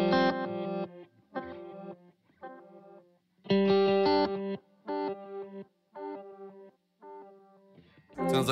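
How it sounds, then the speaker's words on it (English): Electric guitar through a reverse delay pedal effect, short swelling chord phrases repeating in bursts with gaps between, close and fairly loud, no talking. "Sounds like reverse delay."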